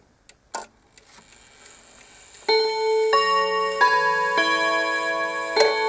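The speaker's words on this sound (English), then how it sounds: "as it's chiming you'll hear it go dunk." A Westminster chime hat clock strikes twelve: a few soft ticks and clicks, then clear bright chime tones ring out in sequence and sustain, with a faint mechanical clank of the chime rack dropping partway through.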